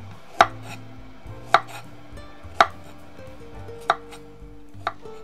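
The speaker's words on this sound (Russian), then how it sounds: "Ну если морковочка крупненькая, то можно полукольцами ее порезать." A knife chops carrots into rings sharply on a cutting board five times at an unhurried, slightly uneven pace, each cut crisp and close.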